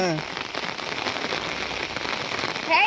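Steady rain pattering on a surface during a morning walk, a dense, continuous hiss of drops throughout, with a brief bit of other noise at the very end.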